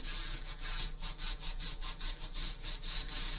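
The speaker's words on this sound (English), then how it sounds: "I'm just going back and forth, smoothing away all that roughness and any loose oxidization that I can" Rough oxidized metal on a Singer 150 sewing machine being smoothed by hand, a steady back-and-forth scraping in regular strokes, about a dozen passes, close and fairly loud.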